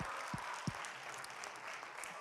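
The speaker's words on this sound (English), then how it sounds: "Let's give everyone a big round of applause." Audience at a regional quizzing event clapping steadily for the teams, a dense, even patter of applause heard from within the crowd, with a couple of soft thumps early on.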